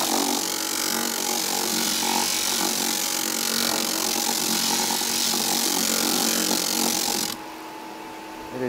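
Homemade bench disk sander driven by a bouncy castle blower motor, running steadily with a loud broadband whir and abrasive grinding, then cutting off abruptly near the end as the noise drops away.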